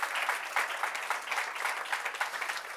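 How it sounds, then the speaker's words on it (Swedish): Warm applause from seminar attendees for all participants, a steady patter of many hands clapping, moderately distant and even throughout. "varje Futurion-seminarium avslutas med en varm applåd till samtliga medverkande"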